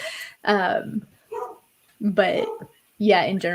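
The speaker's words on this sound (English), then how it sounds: "That's my dog. He's losing his mind." A dog barks loudly and repeatedly nearby in a home during a coding session, four sharp bursts in rapid succession with brief gaps, and someone speaks briefly between them.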